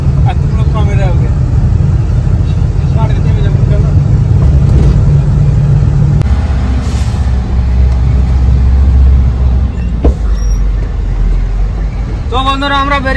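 A truck pulls away from a parking area at the Srirampur border, its low engine rumble steady beneath continuous talking, with a brief sharp knock near the end.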